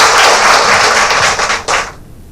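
Applause and clapping from a crowd at a Rotary Club of Haripad event, welcoming a newly elected office bearer; dense, steady clapping for about two seconds that briefly dips, swells again, then stops abruptly.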